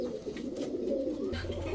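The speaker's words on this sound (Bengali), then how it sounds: "এখন দেখাবো এক জোড়া পাকিস্তানি বাবরা কবুতর।" A pair of Pakistani Babra pigeons coo in low, rolling murmurs, soft and continuous at close range without any voices over them.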